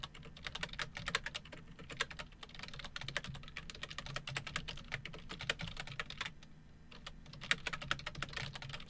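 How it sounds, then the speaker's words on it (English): Rapid computer keyboard typing, dense clicking keystrokes in an irregular rhythm that continue throughout, close and fairly loud with no talk. "typing there, but this should be good"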